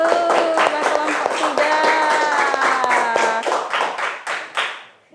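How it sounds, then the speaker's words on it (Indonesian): An audience in a classroom claps for a student group, with quick, loud, rhythmic hand claps close by. Voices chant along over the clapping, which then breaks into a few scattered final claps. "Tepuk tangan dulu buat kelompok"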